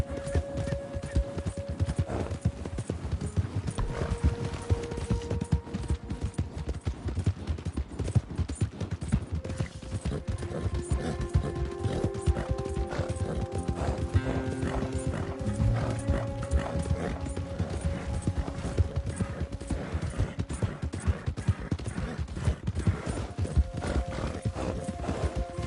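Rapid hoofbeats of a galloping horse in Red Dead Redemption 2, a continuous fast clip-clop rhythm running the whole time, with tonal game music and faint tack rattles layered over it.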